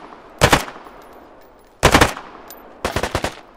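Three separate bursts of machine gun fire in the video game Deadside, each a quick run of close, loud shots with pauses between, the last burst showing distinct individual rounds.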